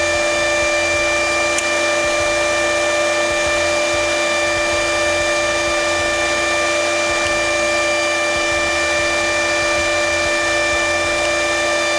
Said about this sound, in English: And when I hit this button, the motor should turn.